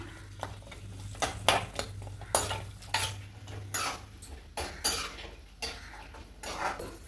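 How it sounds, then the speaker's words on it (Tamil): Garlic sautéing in hot oil, heard as a quiet background sizzle under frequent metallic scrapes and clinks of a spoon stirring in the pan, with no speech. "பூண்டு வந்துட்டு எண்ணெயில் போட்டு நல்லா வதக்கிக்கலாம்"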